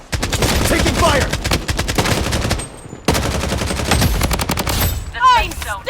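Rapid automatic gunfire in the battle-royale shooter Blood Strike, loud dense bursts of shots filling most of the stretch, a brief lull near the middle, then more firing ending in ringing, sweeping game effects.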